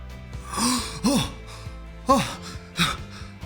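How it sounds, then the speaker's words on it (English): Several slow, deep breaths drawn in and let out, close and fairly soft, each one with a slightly breathy, voiced edge. "Breathing."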